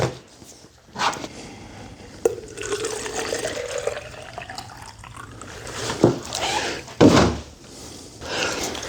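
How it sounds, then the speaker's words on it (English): A water jug is filled with water, giving a gurgling pour whose pitch rises as the jug fills, with scattered thunks and knocks of the container and handling close by. "fill up my water jug"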